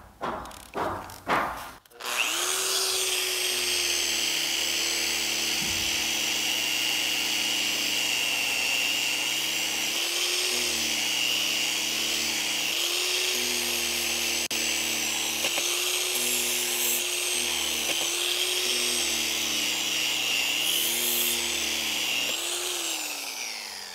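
A Bosch GWS 9-125 S angle grinder polishes with a 3000-grit disc, a steady high motor whine running almost unbroken for over twenty seconds, with its pitch dipping briefly now and then under load.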